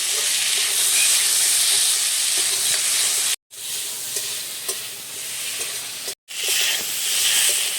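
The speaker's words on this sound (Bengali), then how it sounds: "নেড়ে চেড়ে বেশ ভালোভাবে কষে নিয়েছি" Fish and vegetables sizzle steadily in mustard oil in a pan while a utensil stirs and scrapes through them, a constant bright frying hiss broken by two brief cuts.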